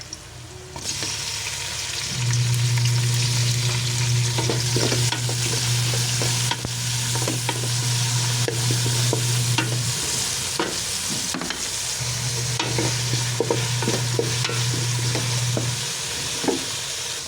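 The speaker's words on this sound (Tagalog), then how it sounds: "Lagyan na natin ang ating kamatis." Tomatoes tossed into a pot of sinigang na pata and stirred, a loud continuous sizzle with repeated spoon scrapes and knocks against the pot, a low steady hum running beneath most of the stretch.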